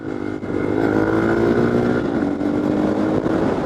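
A 200cc motorcycle ridden fast gives a steady, droning engine note at high revs, close and fairly loud, with a brief dip in the first half second before the sound holds on.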